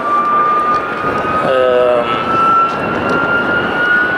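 De Havilland Vampire two-seat jet flying a display at the Stord airshow in 2023, a loud steady engine roar with a rising whine held throughout, while someone commentates over it.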